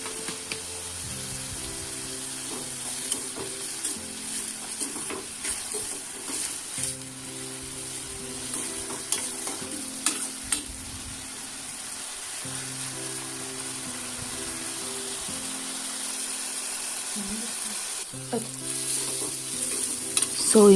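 Onions fry and get stirred in a pan of hot oil for a Godavari-style mango prawn curry, a steady close sizzle broken by repeated scraping strokes of a spoon.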